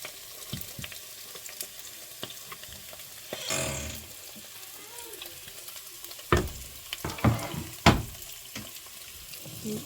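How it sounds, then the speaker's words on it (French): Onions and garlic frying in a pan for beef stir-fried noodles: a steady close sizzle with bursts of stirring and scraping, plus a few louder clacks against the pan. "On va griller un peu nos oignons"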